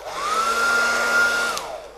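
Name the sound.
hairdryer heating an action figure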